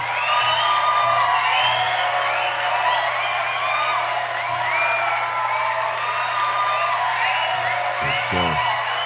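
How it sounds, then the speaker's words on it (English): Live audience at a talk or sermon cheering, whooping and applauding, a loud steady crowd roar filling the whole stretch with scattered shouts and a brief low rumble near the end. "Round of applause for you guys."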